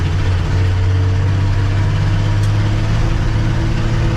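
Steady low engine rumble with a deep exhaust drone from a 1967 Ford F250 pickup truck cruising on a patchy highway, continuous and fairly loud throughout.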